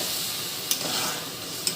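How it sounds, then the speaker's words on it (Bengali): Water goes into a hot pan of basanti pulao, giving a brief hissing sizzle with stirring and two light clinks of a utensil against the pan. "এবারে এর মধ্যে একটু জল মিশিয়ে দিই।"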